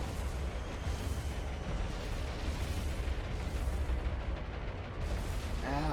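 Bombs exploding on targets in the naval warfare game War On The Sea, a dense continuous rumble of blasts and booms filling the whole stretch without a clear break.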